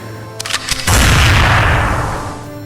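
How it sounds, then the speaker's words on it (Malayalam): A double-barrel shotgun fires with a bullet striking a gate: a few quick sharp cracks, then one loud boom that rolls into a long, slowly fading rumble. "ഇരട്ടക്കുഴൽ തോക്കിന്റെ രണ്ടാമത്തെ ബാരലിൽ നിന്നും പാഞ്ഞു വന്ന വെടിയുണ്ട ഗേറ്റിൽ തട്ടിത്തെറിച്ചു"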